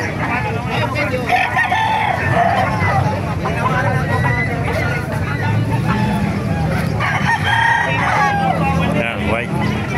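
Several roosters crow over a busy crowd at an outdoor chicken market in Calumpit, Bulacan. Layered calls and clucks rise over steady babble and nearby talk.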